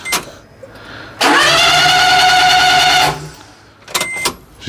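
Starter on a Daihatsu Hijet S210P mini truck spinning the engine quickly for about two seconds without it firing, a loud, even whirring crank with no compression pulses, then silence and a few faint clicks and rattles.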